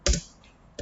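A few quick clicks of keys as text is typed on a computer keyboard, two short taps separated by a brief pause, close and fairly quiet.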